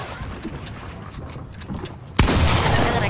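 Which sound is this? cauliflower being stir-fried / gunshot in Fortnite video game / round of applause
gunshot in Fortnite video game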